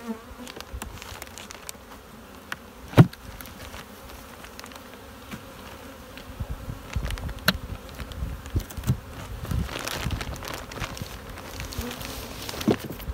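Honey bees buzz around an open small hive, a close, continuous droning hum with individual bees zipping past, a few knocks and frame sounds, and a brief murmur from a person.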